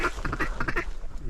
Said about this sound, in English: Duck out front.